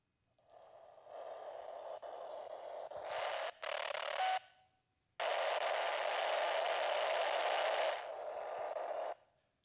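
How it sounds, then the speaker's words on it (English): Frequency-shift-keying data signal with a harsh, modem-like warble, heard alone in long bursts with brief gaps, loud and steady. "So some of you remember it kind of sounds like a modem noise, right?"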